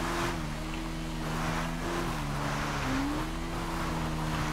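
A motorcycle rides downhill through a favela in GTA 5, its engine droning steadily with a wavering pitch as revs shift, loud and continuous with no speech.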